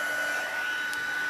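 A handheld embossing heat tool blasts hot air onto stamped cardstock with a constant, nearby fan-like whir and no pauses.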